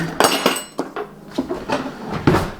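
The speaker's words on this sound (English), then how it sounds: "let's get a big spoon" A big spoon knocks and clinks against a bowl of garlic butter in a kitchen, with about seven loud, close, irregular metallic taps in quick succession.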